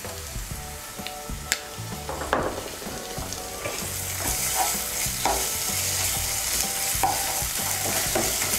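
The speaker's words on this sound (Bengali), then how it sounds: "আদা বাটা আর রসুন বাটাটাকে পেঁয়াজের সঙ্গে ভালো করে মিশিয়ে নেব" Onion fries with ginger and garlic paste in a pan, a steady sizzle broken by repeated scraping stirs of the spoon, close and fairly loud.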